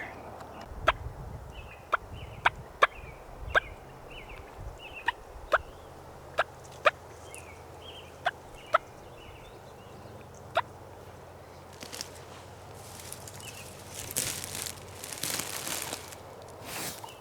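A wild Merriam's turkey in Washington clucks at evening with about a dozen sharp, evenly spaced single notes at a distance, heard faintly over quiet outdoor ambience, followed later by soft rustling.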